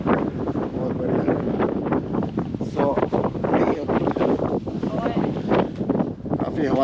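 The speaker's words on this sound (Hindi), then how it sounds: "काफ़ी हवा चल रही है शायद" Strong wind gusts buffet the microphone outdoors in the Himalayan Hattu Valley near Narkanda, a steady loud rumbling roar throughout, with people talking over it.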